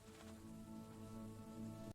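Steady rain falls through a village evening, a soft continuous patter on surfaces with a faint tonal hum beneath, even and unbroken throughout.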